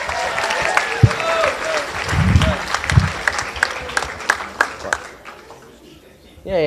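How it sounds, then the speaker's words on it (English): An audience at a high school International Day morning show applauds the performers with sustained clapping that fades out, and voices are heard over it. "let's have one more big round of applause to everybody who performed tonight"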